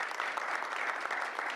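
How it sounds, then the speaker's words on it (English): Steady round of applause from an audience at a school board meeting, honoring Laura; dense, even clapping fills the whole moment without a break. "let's give Laura a round of applause"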